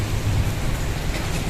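Rain pours steadily near an old church in Hagonoy, Bulacan, a constant broadband wash of noise with a heavy low-end rumble, uninterrupted and with no one speaking.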